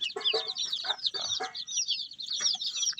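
Three-day-old chicks cheep and cluck in quick, high bursts close by, a busy run of short calls with brief pauses.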